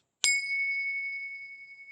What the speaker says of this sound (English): just tuning in to the bell